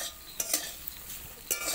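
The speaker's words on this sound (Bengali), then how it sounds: "আলু টমেটো একসঙ্গে কাঁচা লঙ্কা দিয়ে ভেজে নিলাম। ভেজে নিচ্ছি" Potato, tomato and green chilli frying together in oil with cumin and five-spice seeds, a quiet sizzle broken by a few sharp scrapes and clinks of a stirring spoon against the pan.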